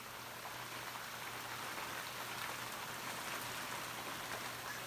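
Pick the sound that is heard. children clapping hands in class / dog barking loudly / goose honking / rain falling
rain falling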